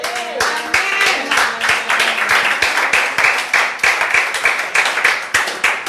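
A church congregation applauding the Lord in steady rhythmic clapping that goes on without a break, with faint voices and tones in the background early on.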